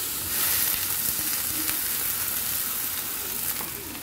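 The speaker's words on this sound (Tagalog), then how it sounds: "Lagyan natin ng sabaw at pakuluan hanggang sa lumabas ang kanilang katas" Broth for glass noodle soup bubbles and sizzles steadily in a pot, a continuous hissing simmer with no talk.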